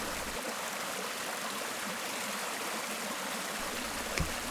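A river stream flowing around a bend: steady broadband rushing and trickling water, continuous and fairly close, with a brief splash near the end.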